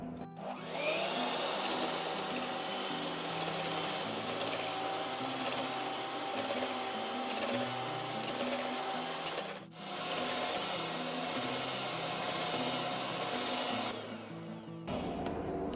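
An electric hand mixer whirs at its highest setting, beating egg whites into stiff peaks with a steady, bright motor hum that briefly dips and then carries on close up before cutting off near the end.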